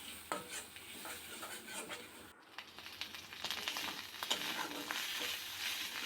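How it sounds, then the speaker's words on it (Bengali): Onion, chili and spice paste with turmeric and salt frying in oil, a close sizzle with scraping stirs that briefly drops out and then returns louder and denser. "মশলাটাকে আমি খুব ভালো করে কষিয়ে নিচ্ছি"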